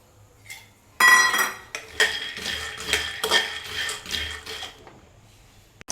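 Peanuts being dry roasted and stirred in a metal pan, close scraping and rattling clinks of the spoon against the pan in busy irregular bursts after a quiet start.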